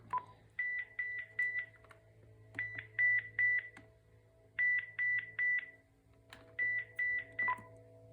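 A Uniden corded/cordless two-line phone system's handset paging tone from the find handset button: four bursts of rapid warbling electronic beeps, each in a quick group of four to five, with short gaps between, clear and close.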